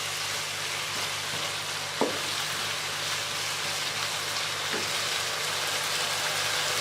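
Chicken for biryani frying in a pot, a dense, constant sizzle close up with one sharp clink of a utensil near the two-second mark and a softer knock later, no voices.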